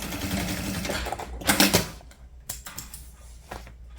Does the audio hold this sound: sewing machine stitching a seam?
yes